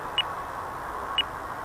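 Two short, clean electronic timer beeps about a second apart during a flight of an FMS Yak-130 RC jet, over a steady background hum with no talk.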